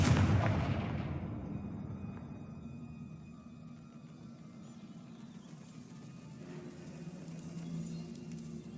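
Confringo blasting spell cast in Hogwarts Legacy, a sharp loud burst that rumbles and decays over several seconds into a low ambient hum.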